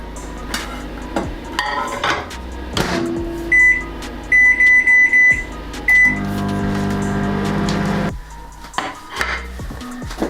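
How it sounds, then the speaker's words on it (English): A microwave oven heats food in a home kitchen, its steady hum running under clattering dishes and cutlery, with a series of loud beeps from the keypad before the low running drone settles in near the mic. "I'm just going to microwave this for a couple of minutes."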